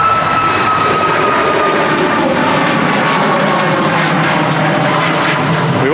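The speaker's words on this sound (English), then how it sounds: "Express about to leap off 23 right. Now starting its flight back to Antalya." A jet airliner takes off from runway 23 right at Manchester Airport with a loud, sustained engine roar and whine that holds steady throughout, heard from nearby.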